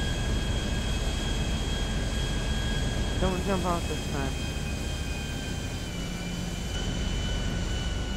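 Airplane engine in the video game GTA Online, a steady loud drone with a whining tone running throughout, while people talk briefly over it.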